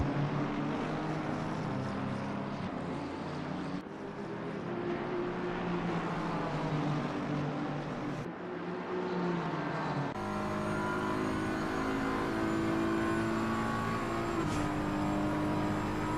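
Race car engines at Paul Ricard in a racing video game, with a steady, layered mechanical drone and whining tones that shift in pitch as gears change, continuous and fairly close throughout.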